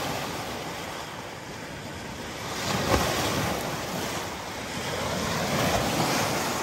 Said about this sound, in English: As you can see, Harrison has the anti-kayak waves up right now.